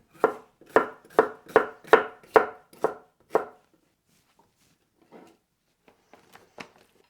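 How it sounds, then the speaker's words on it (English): A knife chops red pepper into small pieces for a stir fry, with eight crisp evenly spaced strokes on a board, close and loud. Then comes a pause and a few faint scattered taps. "I'll cut those into small pieces for the stir fry."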